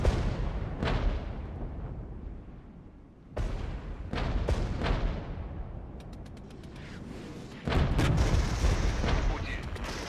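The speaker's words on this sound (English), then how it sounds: "that's our divisional artillery firing" Divisional artillery in the war game Iron Tide fires in heavy booming salvos, each blast decaying into a long rumble, with a sharp crackle of rapid reports near the end and voices talking over it.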